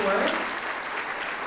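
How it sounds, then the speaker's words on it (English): Applause from an audience at an annual gratitude awards event, a brief steady wash of many hands clapping under a speaking voice. "Let's give a big round of applause to Annie Lorenz."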